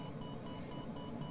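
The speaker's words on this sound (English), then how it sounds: "the variometer is the device in the middle here" A glider's variometer in Microsoft Flight Simulator 2020, thermal soaring over the Pyrenees, beeps steadily in a fast, even pulse of electronic tones, faint and alone.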